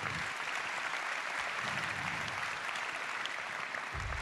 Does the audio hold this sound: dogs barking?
no